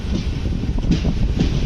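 Southern Railway's 16751 Chennai Egmore to Rameswaram Express running near Mandapam, heard from on board as a steady low rumble with soft rhythmic clatter and wind noise, no talking.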